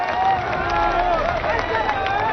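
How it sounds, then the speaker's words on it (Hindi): An audience greets guests at the inauguration of the Saryu Canal national project with sustained applause and cheering, a dense crowd sound that holds steady throughout. "तालियों से सभी का स्वागत करें"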